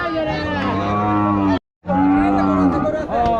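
Cattle at a cattle market moo in long, loud, close calls, one drawn-out bellow followed after a brief gap by another, with faint crowd murmur beneath.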